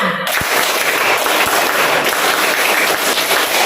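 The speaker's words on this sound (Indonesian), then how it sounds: "Mana tepuk semangatnya?" Schoolchildren in a classroom do a 'tepuk semangat' spirit clap at a morning lesson, a dense, loud burst of many hands clapping together that fills the room steadily throughout.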